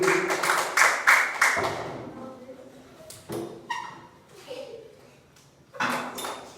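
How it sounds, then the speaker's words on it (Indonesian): Primary school classroom giving a burst of applause: several seconds of dense clapping from many children, fading after about a second and a half, followed by scattered voices, knocks and a second short round of claps. "Terima kasih, tepuk tangan."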